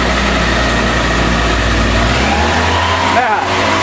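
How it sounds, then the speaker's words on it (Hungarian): Suzuki G13 car engine converted for aircraft use, running loud and steady on a thrust test stand with a constant drone that dips briefly near the end, voices talking over it. "Megpróbáljuk 5005 fölé vinni a motort."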